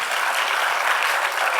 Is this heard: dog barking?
no